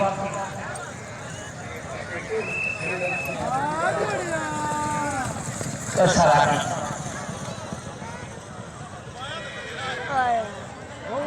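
Horses gallop past during a tent pegging competition in Pakistan, a rapid hoof rhythm mixed under a commentator's amplified calls and crowd noise.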